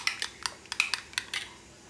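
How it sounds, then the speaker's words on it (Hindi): A whisk clinks rapidly against a bowl while egg yolks are beaten with a little milk for a fluffy omelette, quick light taps in an uneven rhythm, fairly faint and close, with no talking. "इसमें मैंने थोड़ा सा दूध ऐड किया है और इसको योक को अच्छे से पहले फेंट लेंगे।"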